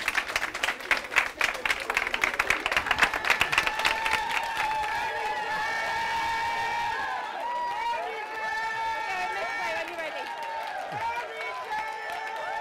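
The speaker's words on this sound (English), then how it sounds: "get everyone out and just clap and just really celebrate his arrival back home" A crowd of neighbours claps and cheers to welcome a COVID survivor home, dense applause in the first few seconds thinning into scattered clapping and chatter under a steady outdoor murmur.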